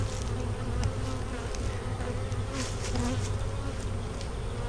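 Honey bees buzz steadily in a thick, close swarm drone around hive frames in early spring, with individual insects flaring louder as they pass near.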